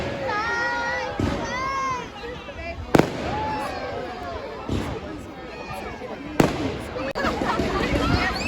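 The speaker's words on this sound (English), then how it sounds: "it's bonfire night tonight. It's the 5th of November, and so they will be doing fireworks" Bonfire Night fireworks on the 5th of November burst in a series of loud, sharp bangs. Crackling bursts and whistles fill the gaps, with children's voices and crowd chatter underneath.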